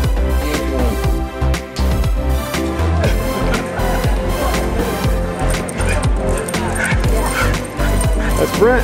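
Puppies yip, bark and whimper in a busy, loud burst close by, mixed with excited human voices talking over them throughout a military homecoming reunion.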